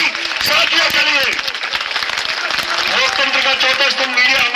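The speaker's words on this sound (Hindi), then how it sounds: "एक बार जोरदार तालियां हमारे जानकारी साथियों के लिए" Audience clapping at an outdoor protest gathering and hunger-strike sit-in, a dense, steady wash of applause lasting the whole stretch, with some voices and crowd noise mixed in.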